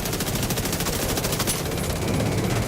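Heavy weapon fire in The Division 2, a rapid machine-gun burst of evenly spaced shots rattling continuously throughout, loud and close, with a second gun joining near the end.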